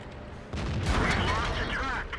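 A T26E4 Super Pershing's tank gun fires in World of Tanks, a heavy broadband blast that swells in just after the half-second mark and rolls on through the clip under a voice.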